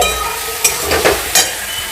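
Pointed gourd frying in a pan with chilli powder and salt, a steady sizzle broken by three sharp scraping strokes of a spoon stirring, close and unaccompanied by voices.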